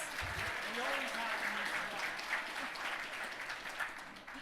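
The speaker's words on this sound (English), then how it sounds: "a big round of applause for Bill Lawrence" Audience applause at a mayor's 2024 State of the City address in White Rock, greeting councillor Bill Lawrence; a steady wash of clapping from a seated crowd, fairly even throughout with a faint voice underneath.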